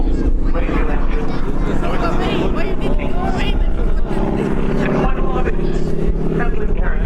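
Loud, steady drone of an aircraft's 600-horsepower radial engine at an air show, heavy low rumble with wind buffeting, a voice talking over it throughout.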